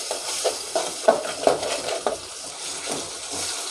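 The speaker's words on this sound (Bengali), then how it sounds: "আর দুই মিনিট এটা আমি কষিয়ে নেব ভালো করে, যাতে পেঁয়াজ রসুনের গন্ধটা না আসে।" Onion and garlic are sautéed with spices in a pan, with a soft sizzle under a series of spatula scrapes and taps against the metal that come in an uneven rhythm.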